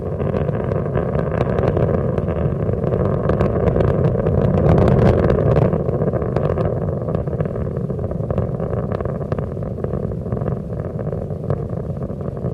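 Space Shuttle Endeavour's three liquid-fuel main engines during the STS-111 launch, throttling back, give a steady, loud, continuous broadband roar and rumble that holds level throughout with no talk over it.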